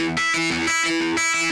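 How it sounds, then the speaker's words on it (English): A synth runs through a Drolo Kiwami effect pedal with drive added for a guitar-like tone, playing short distorted notes in a steady rhythmic pattern, close and fairly loud, with no talking. "Now I'm going to plug my synth into this and add some drive to make it sound more like a guitar."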